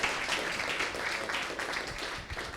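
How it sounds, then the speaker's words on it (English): A room claps for a presenter in a short round of applause, a dense patter of hands that holds steady for a couple of seconds before easing off. "Give him a round of applause"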